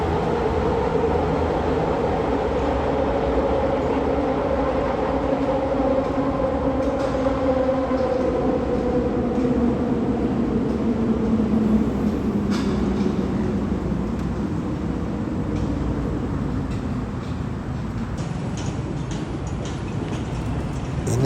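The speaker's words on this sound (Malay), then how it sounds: "Itu ketibaan LRT dari stesen Melati." An LRT train arriving from Melati station, a loud, steady rumble of wheels and motors with a descending whine as it slows, heard close and continuous with no talking.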